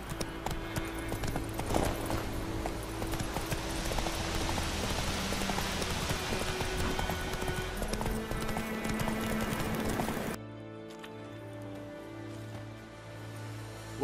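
Horse hooves clip-clopping at a steady ridden walk with rain pattering around, fairly close and continuous before dropping away into a quieter, sparser scene.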